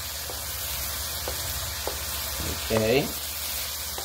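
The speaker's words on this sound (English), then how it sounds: "Now, what we're going to do is put in that garlic." Garlic sizzles steadily as it fries for ribeye steak beef fried rice, a constant loud crackling hiss close by, with a few stirring scrapes and a brief spoken word partway through.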